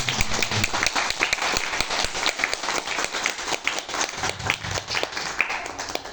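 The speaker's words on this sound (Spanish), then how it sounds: "Me gustaría que empecemos con un fuerte aplauso para todos los profesores que hoy nos acompañan." An audience at an academic panel discussion applauds the professors present, with individual claps audible in the steady applause that fades slightly toward the end.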